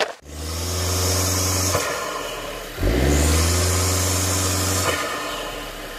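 A 2021 Honda Civic Sport hatchback with its muffler deleted revs loudly and alone, rising to a raspy roar, dropping back, then climbing again in a second strong rev before easing off.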